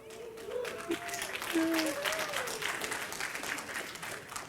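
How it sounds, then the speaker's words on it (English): A smattering of applause and scattered cheers from a church congregation, moderately faint and uneven, with voices calling out over the clapping. "A smattering of applause, right?"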